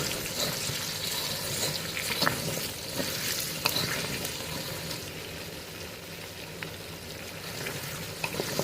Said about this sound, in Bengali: নুন দিয়ে কুমড়োগুলোকে আলুটার সাথে ভালো করে কষিয়ে নেব